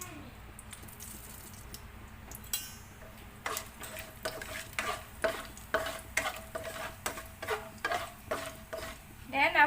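Cumin with star anise, cardamom and bay leaf sizzles in hot oil, a soft steady crackle overlaid by repeated scraping stirs of a spoon in the pan, quiet and close.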